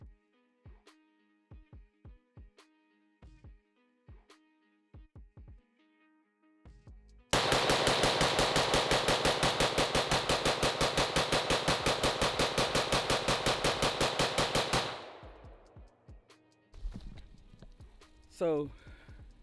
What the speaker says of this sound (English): So, just seen the rapid fire.